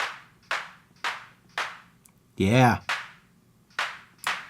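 Synthesized clap tones from Ableton Live's Operator, shaped with reverb-like decay, drive and a bandpass filter, repeat as a steady sequence of sharp hits, each with a short fading tail; a voice briefly speaks partway through.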